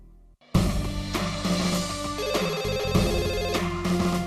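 A telephone ringtone plays loudly and continuously after a brief quiet start, with a repeating melodic pattern of bright tones as a call is placed to a police station.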